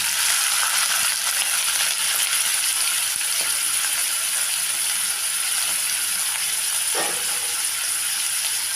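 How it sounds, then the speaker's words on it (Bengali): Chopped onions with whole garam masala sizzle lightly in hot white oil, a steady dense frying hiss running close and unbroken, with a faint clink of a spatula near the end. "পেঁয়াজটাকে হালকা করে ভেজে নিলাম"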